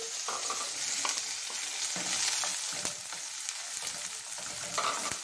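Scallion and onion frying in a pan for ackee and saltfish, a steady bright sizzle with repeated stirring and scraping strokes throughout, close and continuous with no talking.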